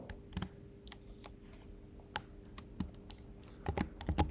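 Typing on a laptop computer keyboard, sparse irregular key clicks, close and fairly quiet over a faint steady hum, with a quick cluster of keystrokes near the end.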